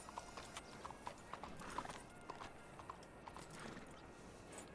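A video-game horse named Bromley trots along with quick rhythmic clip-clopping hooves, each step distinct but faint and distant, with a soft whinny mixed into the steady footfalls.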